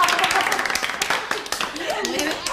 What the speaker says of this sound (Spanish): El aplauso para ella también, pues.